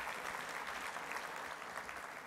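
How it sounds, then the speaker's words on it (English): Sustained applause from an energy and water summit audience, a thick, even roar of many hands clapping at steady volume without pauses or voices. "please join me in giving Jeff Grubbe a round of applause"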